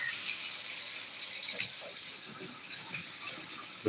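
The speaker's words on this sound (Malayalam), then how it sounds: "ചിക്കൻ ഒന്ന് കഴുകി നമുക്കത് ചിക്കൻ വെള്ളത്തിലേക്ക് ഒന്ന് കൊടുക്കാം" Raw chicken washed under running water in a sink gives a soft, continuous tap flow with intermittent splashes and gushes as the pieces are rinsed.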